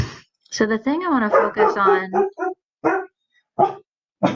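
A dog barks several times indoors, sharp and nearby, in short separate barks after a person's speech.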